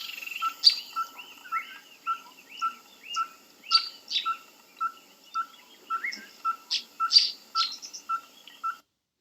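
Hybrid orange-fronted tinkerbird singing a steady series of short, evenly spaced piping notes at a regular tempo, clear and close, with a few sharper higher chirps from other birds mixed in and no voices.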